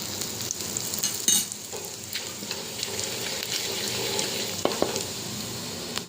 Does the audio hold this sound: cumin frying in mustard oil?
yes